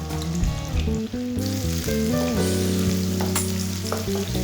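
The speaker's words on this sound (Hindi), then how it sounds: "दो बारीक कटी हुई प्याज डाल लेंगे।" Finely chopped onions fry in hot oil with a continuous, close, loud sizzle and a few stirring sounds. Tonal sounds run in the background.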